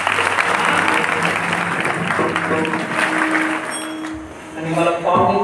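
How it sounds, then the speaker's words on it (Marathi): An audience at a Marathi kirtan claps for the taal (hand-cymbal) players, a steady wash of applause with voices and some tonal sound underneath, swelling briefly near the end. "टाळकऱ्यांसाठी एकदा सगळ्यांनी टाळी वाजवा"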